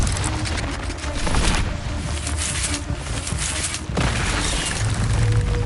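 Fiery spell blasts from the Incendio fire spell in Hogwarts Legacy, dense booming bursts that roll on continuously over a loud crackling wash, with a sharp fresh hit near the end.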